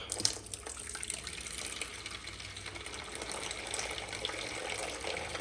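Hot water runs through a beer tap line being cleaned in a shop, a steady close hiss of flowing liquid that continues unbroken throughout.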